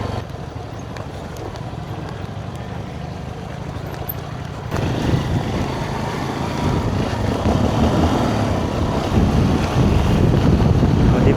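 Strong wind buffeting the microphone on a scenic rural road in Pangasinan, a continuous low rumble that grows rougher and louder partway through, with no one speaking.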